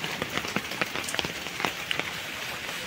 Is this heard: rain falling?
yes